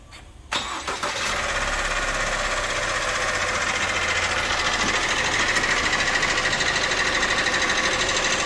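Opel Insignia A engine running with timing chain noise, a steady mechanical clatter and whir that starts abruptly after a brief quiet moment and holds loud and close for the rest of the clip, with no talking.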